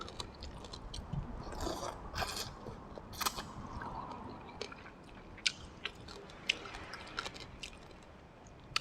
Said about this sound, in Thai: มากินกันเลยจ้า